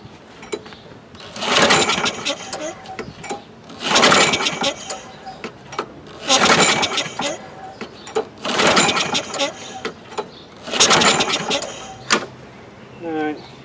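A 2003 Craftsman 6.25 lawn mower engine being cranked in five separate, loud, churning attempts, with short quiet gaps between them.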